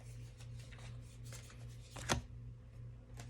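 Animal tarot cards are gathered and shuffled close up, giving a quiet run of rapid riffling flutters and one sharper slap of the deck partway through.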